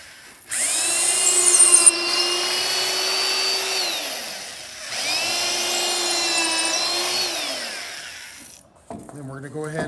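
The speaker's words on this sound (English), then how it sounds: "we're going to go ahead and drill that in to the top" A power drill bores into the wooden top of a bench swing arbor ladder in two sustained runs of a few seconds each, loud and close, with a brief pause between them and a short clatter at the end.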